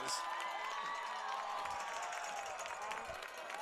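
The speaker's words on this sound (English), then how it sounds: "A good TCA crowd here as well. The student section with a good crowd here." A high school football crowd cheers and shouts from the stands, the student section among them, as the TCA Lions take the field at Jackson Christian; a distant, steady roar runs throughout with voices mixed in.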